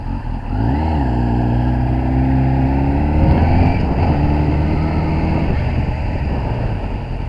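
A Kawasaki ZX10R motorcycle engine running nearby, loud and steady, with a rev rising and falling once and then a continuous idle-like drone throughout.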